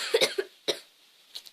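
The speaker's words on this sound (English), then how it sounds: "that voice just makes me cough after a time of it" A person coughs close to the microphone in a quick cluster of three or four harsh coughs, then a short gap and a softer final cough, with no speech.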